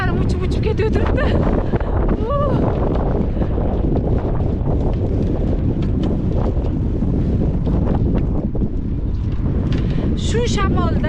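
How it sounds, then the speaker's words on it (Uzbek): Strong gusty wind buffets the microphone and whips loose clothing in a continuous loud roar, with brief fluttering flaps rising above the rush throughout. "Shamolning kuchliligiga qaranglar, kiyimlarim uchib ketib turibdi."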